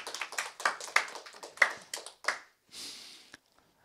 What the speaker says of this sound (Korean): 우리 박수로 환영하십시다.